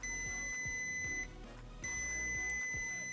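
A continuity tester gives a steady high electronic beep while a switch on a Tesla motor setup is pressed, cutting out for about half a second and then resuming, close and clear.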